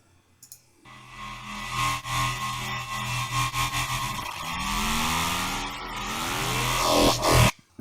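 A reversed sound design passage built on synthesized bass, swelling in with rising and falling sweeping tones and pulsing throbs, growing louder toward a sudden cutoff, with no voices.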